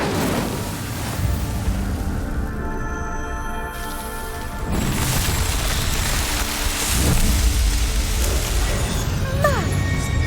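A fire spell is cast in the PS5 game Hogwarts Legacy, a loud whooshing burst with rumbling, crackling flame texture that swells over several seconds amid game effects.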